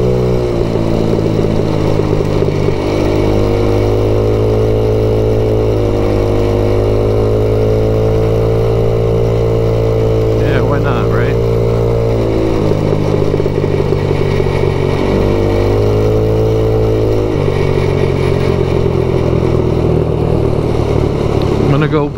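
A 2021 MADDOG Generation V 150cc scooter engine hums steadily and loudly throughout a ride, its drone shifting pitch a few times as the throttle changes, with wind noise around it.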